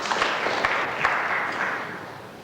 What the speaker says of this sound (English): listen to that cheer from this vast audience